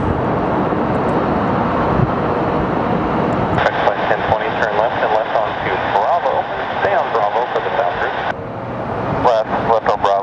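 Airplanes at Sky Harbor Airport produce a loud, continuous engine roar that shifts partway through, with a person talking over the steady aircraft noise.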